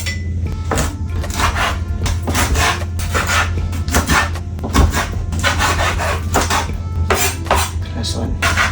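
Chicken wings being cut up in a home kitchen, a steady run of knife strokes against a board and clinks of utensils, close and busy over a low background hum.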